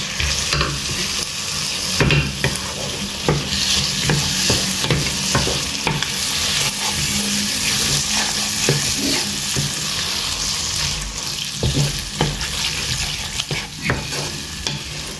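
Frozen peas stirred into a paneer dish in a pan: a steady loud sizzle with repeated close spoon scrapes and clinks across the whole stretch.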